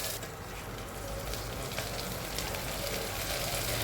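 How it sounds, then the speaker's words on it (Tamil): Cut parotta pieces sautéing in a hot pan for vegetable kothu parotta, giving a steady, even sizzle and crackle that runs without a break from start to finish at moderate closeness. "இப்போ எல்லா பரோட்டாவும் போட்டு நல்லா வதக்கி எடுத்துக்கோங்க."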